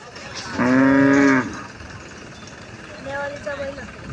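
A bull gives a long, deep lowing call, then a second, softer low follows a couple of seconds later, with faint background noise.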